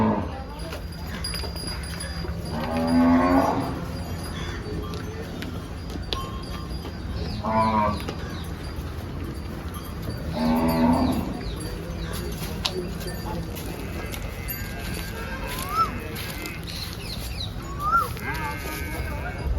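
Gir cattle moo a few times at intervals amid a busy cow market background, with people talking nearby in between the calls.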